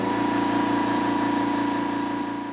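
A steel-tank air compressor runs steadily up close, a loud, continuous motor drone with a rapid rhythmic pulsing and a strong low hum, much noisier than a Husky 4610A Silent Flow model.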